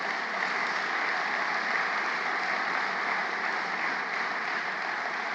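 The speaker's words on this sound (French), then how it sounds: "tous les collaborateurs des fédérations, des MEDEF territoriaux, des MEDEF régionaux, qu'on peut applaudir." Conference audience applauding during an opening speech at a French business federation event, a steady, even wash of many hands heard at moderate distance without voices.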